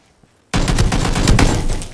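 Sudden burst of rapid automatic gunfire in a first-person shooter video game, loud and continuous for about a second and a half after a quiet start.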